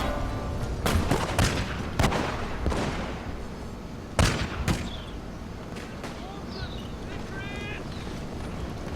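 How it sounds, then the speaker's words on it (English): Rifle volleys in the Shogun 2: Fall of the Samurai video game, a string of sharp cracks fired at irregular intervals, with heavier booms around the middle and quieter distant shots trailing off over a rumbling battlefield background. "You can actually hear the shots breaking the sound barrier"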